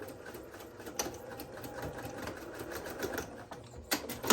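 A sewing machine stitches a fabric wet bag with a fast, even mechanical whir and ticking rhythm, running steadily and fairly quietly throughout, with a few small clicks near the end.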